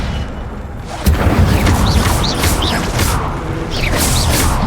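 Incendio fire spell cast in Hogwarts Legacy: a loud, dense burst of roaring flame erupts after a brief quieter lead-in and sustains steadily, with a few swishing magical flourishes layered over the blaze.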